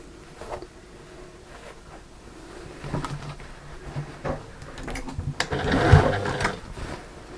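A sewing machine top-stitches around a seam on a fabric storage caddy, its whirring motor rising and falling in short runs amid soft fabric handling and a few clunks.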